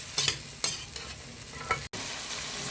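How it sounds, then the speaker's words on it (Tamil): Raw banana slices frying in a pan are stirred with a few sharp scraping strokes over a steady background sizzle, close up and without talk. "இப்போ கிண்டி விட்டுக்குவோம். நல்லா கிண்டி விடணும்."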